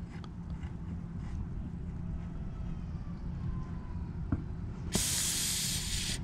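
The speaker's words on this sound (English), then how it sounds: "You turn this tight all the way on here, and then you just turn this, the adjustment ring, till you hear air coming out." An off-road tire deflator valve with its adjustment ring opened lets air escape: a low, rumbling hiss at first, then a sudden loud, bright rush of air that continues steadily to the end.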